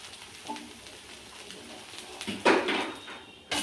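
Ragi egg dosa sizzling on a hot oiled pan, a soft steady frying hiss with a louder burst of sizzle and clatter near the end.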